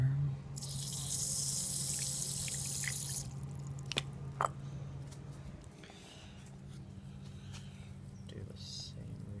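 Tap water runs steadily into a sink for a few seconds, then stops, leaving a few drips and small clinks.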